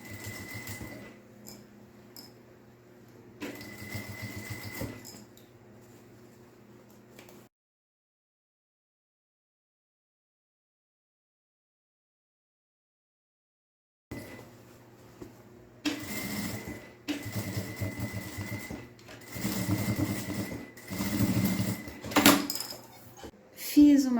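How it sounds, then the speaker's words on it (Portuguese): A sewing machine stitches around the edge of a folding fabric pencil case in bursts of rapid mechanical whirring, falling silent for several seconds midway before resuming louder, with some handling knocks and clicks. "aqui eu só vou fazer uma costura em toda essa volta, para unir as duas partes"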